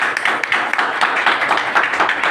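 A crowd at an office gathering breaks into loud, sustained applause to welcome a speaker, a thick continuous wash of clapping hands close by that holds steady throughout with no talking.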